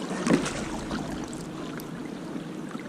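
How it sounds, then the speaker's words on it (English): Steady broadband rushing of the Burgess Falls waterfall, heard from a kayak on the water, a continuous wash of noise with no voices. "We are close to the falls. I can hear."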